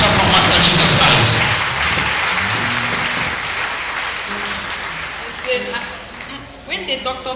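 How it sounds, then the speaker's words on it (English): Audience applause in a church service honoring Master Jesus Christ, a loud dense wash of clapping that slowly thins and fades, with a few voices and shouts breaking through near the end. "Clap better for Master Jesus Christ"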